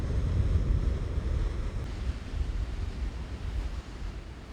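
Sea waves wash against the Northumberland coast below Dunstanburgh Castle, a low rumbling surge mixed with gusty wind buffeting the microphone, rising and easing without any speech.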